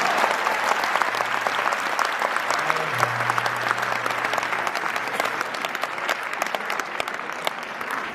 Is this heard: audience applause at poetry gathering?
yes